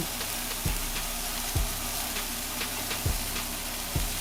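Seasoned corn steadily sizzles on a grill in a constant hiss, with a few soft low thumps recurring about once a second, close by and without speech.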